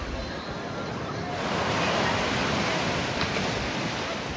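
Atlantic Ocean surf on Gran Canaria: a broad, steady wash of waves breaking close by, swelling a little louder midway, with wind noise and no voices.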